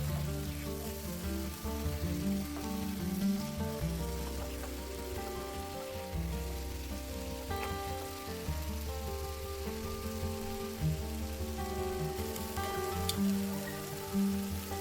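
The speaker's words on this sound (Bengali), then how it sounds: "মশলার গায়ে থেকে যতক্ষণ না তেল ছাড়ছে ততক্ষণ এই মশলাটাকে ভালো করে কষিয়ে নিতে হবে" Spice masala for fish kalia frying in hot oil, a steady close crackling sizzle that runs throughout with no talking over it.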